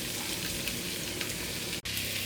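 Onions sizzling and frying in a pan with ginger and garlic added, a steady dense crackle throughout that cuts out for a split second before resuming, close and fairly loud with no talking.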